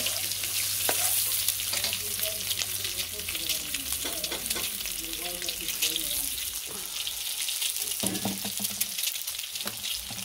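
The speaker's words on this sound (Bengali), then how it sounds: "ডিম ভাজি চুলোয় দিয়ে দিচ্ছি" An egg frying in a pan on a home stove, crackling and sizzling steadily with some stirring and scraping and a few faint background voices.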